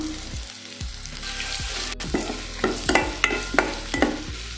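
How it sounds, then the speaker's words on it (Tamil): Mango peels sauté in a hot pan with a steady sizzle, and a spoon stirs them in repeated scraping strokes close by, with no voices. "இதை அப்படியே போட்டு நல்லா ஒரு வதக்கணும்"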